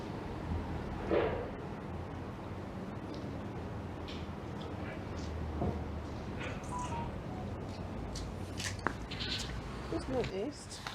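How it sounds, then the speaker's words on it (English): Sheep bleat faintly in the distance over a constant background hum, a few calls scattered across the stretch. "Not quite sure why we got sheep here."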